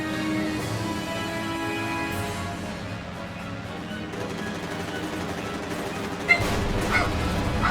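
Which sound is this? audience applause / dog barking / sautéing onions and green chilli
dog barking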